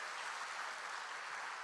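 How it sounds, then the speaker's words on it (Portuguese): A crowd claps steadily at a church service, a dense even wash of applause at moderate distance with no break. "pode aplaudir a Jesus"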